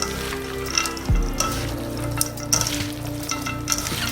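Chopped vegetables are mixed together for Korean kimchi, a continuous close rustling and squelching with soft rhythmic mixing sounds and a faint low hum beneath.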